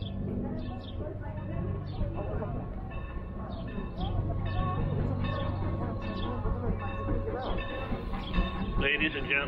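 A train arrives at a station, rumbling steadily nearby with a low droning hum and faint squeals, while voices talk over it throughout.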